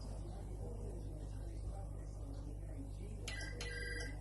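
A telephone on a BT Ambassador electronic switching system rings line 2 with two short electronic bursts near the end, over a steady low electrical hum.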